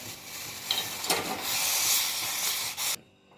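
Water at a rolling boil in a pot on a home kitchen stove, ready for vermicelli kheer, gives a steady close broadband hiss and bubbling for about three seconds, then stops abruptly.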